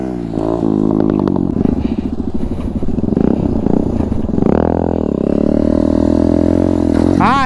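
A TVS Apache motorcycle performs circle wheelie stunts close by, its engine revving hard and rising and falling in pitch with throttle bursts, with some rattle and scrape, then holding a steady drone before a final rev.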